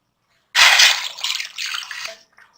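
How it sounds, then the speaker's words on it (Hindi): Water splashes and pours into a pot of spiced chicken for haleem in a short burst, then trickles on in a second, lighter stream before stopping, close and fairly loud. "और साथ थोड़ा सा पानी ऐड कर दूंगी।"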